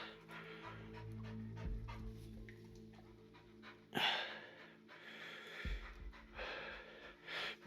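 Spikey the dog pants steadily and close by in a cave, rhythmic breathy huffs with a sharp snort partway through and quieter panting after.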